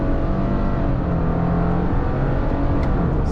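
Steady tire roar inside a lifted 2021 Subaru Crosstrek Sport 2.5 in motion, a constant broadband hum and rumble with some engine drone beneath and no voices.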